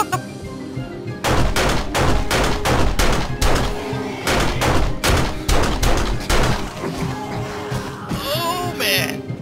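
Pistol gunfire in the survival video game 7 Days to Die rings out as a rapid string of loud, close shots lasting several seconds, followed by a brief gap and scattered sounds, with a voice reacting now and then.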